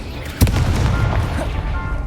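A Confringo blasting spell goes off in the Hogwarts Legacy video game: one sharp, loud boom lands early, then a rumbling game soundscape carries on steadily, with a voice present.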